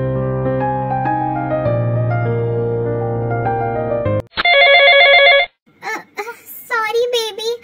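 An incoming call rings out as a loud electronic phone ringtone, a steady repeating melodic pattern, followed by a short burst of bright tones and then a brief child-like voice talking.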